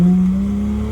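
A BMW E90 335i with a newly replaced clutch lets out a loud, steady exhaust drone, close up. The low engine note holds nearly level for the whole second with no voices over it.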